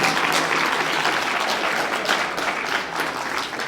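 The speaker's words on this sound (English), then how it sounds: "I would wish them all applause." Attendees at a welcome event for a conference give sustained applause, a dense patter of many hands clapping throughout, fairly distant and even with a few louder claps.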